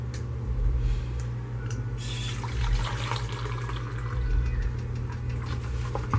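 White vinegar pours steadily into a measuring cup for pickled asparagus, a continuous close liquid splash and gurgle over a low background hum, thickening midway and running unbroken to the end without talk.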